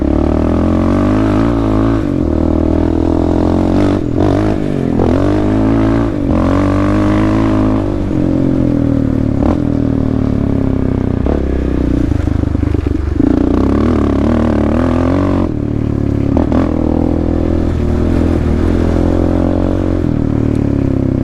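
Arctic Cat DVX 400 sport ATV engine, fitted with an aftermarket pipe, drones steadily and loudly while riding, rising and falling with throttle over the whole stretch, with some rattle and clatter from the machine.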